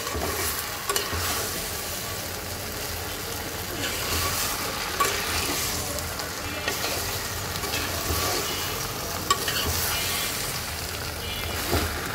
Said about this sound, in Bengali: তো এখন আমি খুব সুন্দর করে মিক্স করে দেব।